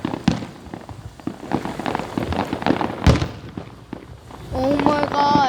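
Fireworks bursting in a long, continuous show, with repeated sharp pops and thuds through excited talk, a passing car and a rising whistle near the end.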